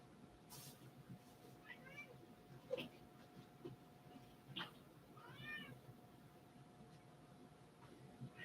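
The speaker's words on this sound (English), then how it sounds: "Meow, I hear you, meow." A cat meows a few times in a quiet room, soft rising cries spaced a couple of seconds apart, with faint background hiss.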